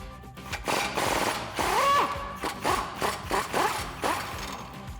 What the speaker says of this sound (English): Now we can remove the rear track bar bolt.